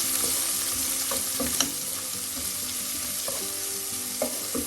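Curry leaves and aromatics sautéing in oil in a pan for a brinjal stir fry, a constant bright sizzle with occasional sharp knocks and scrapes of a stirring spoon, close up and steady with no voices.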